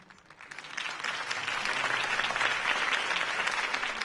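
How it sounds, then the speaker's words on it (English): Campaign-rally crowd in the Batman Telltale Series game bursts into applause that swells quickly into steady, dense clapping and holds at a moderate distance. "If only Mr. Wayne, my campaign's largest backer, could have heard that applause"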